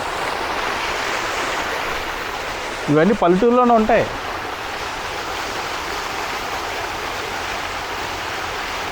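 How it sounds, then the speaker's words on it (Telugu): Water falling and flowing in a village in Andhra Pradesh, a steady broadband rush throughout, with a person speaking briefly over it partway through. "ఇక్కడ వాటర్ చూడండి, వాటర్ పడుతున్నాయి ఇక్కడ చూడండి."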